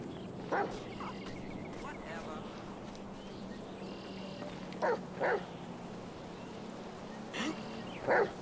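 A dog in the video game GTA 5 gives a few short barks and yips spread across the clip, mid-distance, with people talking and game ambience underneath.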